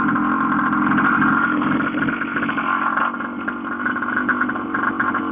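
A 49cc CAG pocket pit bike with its stock exhaust runs with a loud, buzzing small-engine drone, steady and close with slight dips in level.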